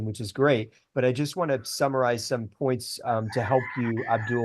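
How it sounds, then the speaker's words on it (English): A rooster crows faintly in the background of a video call while someone speaks steadily over it. "I'm going to mute you so that we don't hear the rooster in the background"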